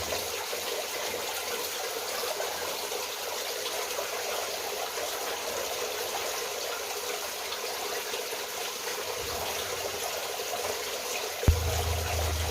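Small waterfall trickling steadily in a bird aviary, a continuous soft splashing wash, with a brief low thump near the end and no talk.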